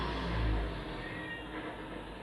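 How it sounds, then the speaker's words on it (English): A cat gives a single drawn-out meow near the start, then a faint steady background hum continues. "can you hear my cat meowing?"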